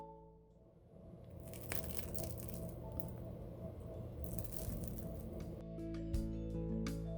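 A crispy baked focaccia crust crackles and crunches up close, a continuous dry rustle broken by sharp crackling snaps, with no voices.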